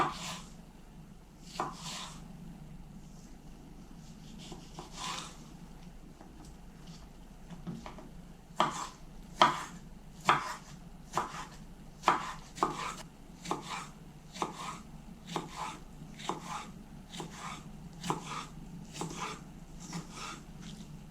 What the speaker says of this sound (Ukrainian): Огірочки нарізаю соломкою.